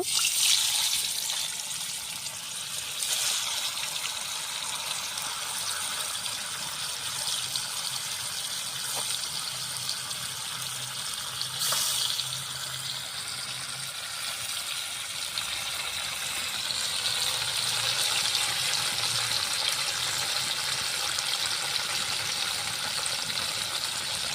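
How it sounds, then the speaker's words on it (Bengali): About 200 g of cut paneer pieces fry lightly in hot oil in a home village kitchen, giving a steady, fairly loud sizzling hiss that runs unbroken throughout, with no talking. "এবার আমি পনিরগুলো দিয়ে দেব হালকা করে ভেজে নেব"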